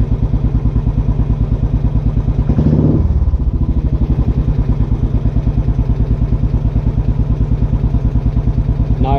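A Royal Enfield Classic 500 single-cylinder motorcycle, warmed up and fitted with a new spark plug, idles with an even, loud thumping beat, broken once early on by a short throttle blip that settles straight back to a steady idle.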